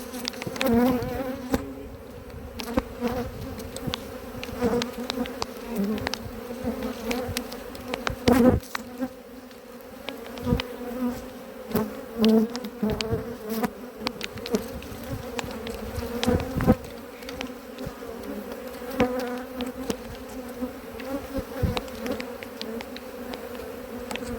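Dense, constant buzzing of many bees swarming close by, a steady droning hum with individual insects zipping past, no voices.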